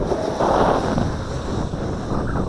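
Steady wind gusts across an outdoor field while an Eachine Wizard X220 FPV racing drone flies, making a loud, continuous rumbling roar over the microphone that swells slightly and never lets up.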